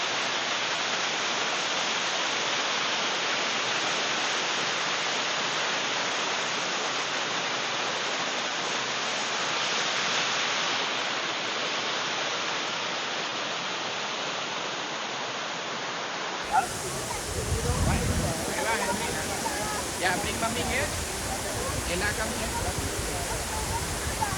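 Broad, steady roar of a waterfall in Malaysia, loud and continuous throughout, the tone shifting partway through as if nearer the falling water, with no clear talk over it.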